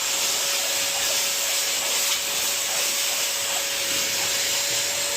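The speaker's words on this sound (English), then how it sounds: "the next stage is to vac out as much as we can" Wet vacuum sucking debris out of an inflatable Lay-Z-Spa hot tub, a steady loud hissing roar with a constant motor whine and faint rattles of water and grit, with no talk.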